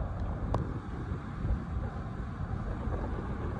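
Strong monsoon thunderstorm wind in Phoenix, Arizona roars steadily against the microphone in a continuous rumbling gust, with a faint sharp crackle early on.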